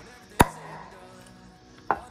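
A cigarette lighter pries the cap off a beer bottle, giving two sharp, close cracks about a second and a half apart over a quiet background with no voices.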